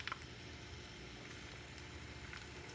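Argentinian chorizo sausages sizzle steadily in a pan, a faint, even frying hiss with a few small pops near the start, heard alone.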